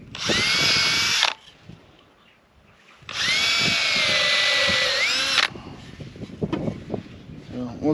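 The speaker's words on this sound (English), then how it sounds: "Found it kind of important to pre-drill as much as I can." A power drill pre-drills leftover wood from earlier projects while building pasture boxes. Two loud, close, sustained whining bursts, the second longer, are separated and followed by quieter handling knocks and clatter.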